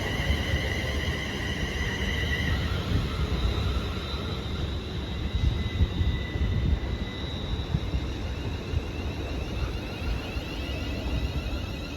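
A London Northwestern Railway train to Birmingham New Street, made up of class 350 units, passes at Watford Junction with a steady, continuous rail roar and faint wheel squeal at moderate distance.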